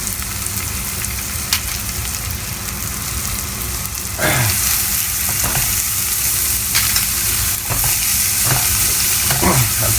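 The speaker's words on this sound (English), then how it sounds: "I'll just fry the garlic. Yep. And then to that, I add the chopped onion." Garlic fries in a pan, then chopped onion goes in, the close crackling sizzle jumping louder midway and continuing with stirring scrapes and taps.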